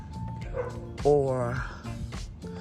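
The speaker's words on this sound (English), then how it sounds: "you can hear the neighbor's dog" A dog barks and yelps a few times in the background, partly under a person talking nearby.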